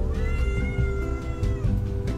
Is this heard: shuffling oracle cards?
no